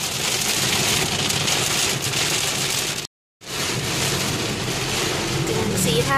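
Steady, dense rain pattering on a surface, loud and continuous, with a brief break of silence midway before the downpour resumes.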